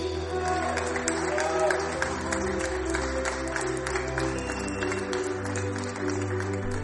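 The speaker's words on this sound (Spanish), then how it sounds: "Esto es un ejemplo de todos aquellos aplausos que durante el confinamiento dedicamos muchos ciudadanos a los sanitarios" Recorded applause from residents cheering health workers during the COVID lockdown: scattered clapping and crowd noise over sustained tones, moderately distant and steady.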